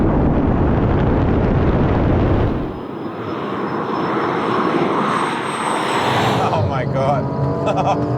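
Two cars, a V12 Aston Martin and an MG Cyberster, launch in a drag race: a loud, sustained engine roar that drops off after a few seconds and is followed by rising whine and wind noise as the cars pull away.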